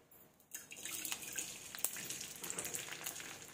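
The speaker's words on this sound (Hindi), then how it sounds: "इस तरह से धीरे धीरे गोंद को हम तलेंगे" Edible gum (gond) fries slowly in oil over a low flame for gond laddoos, giving a soft, steady bubbling sizzle with faint pops. It is quiet and close, and starts after a brief clink.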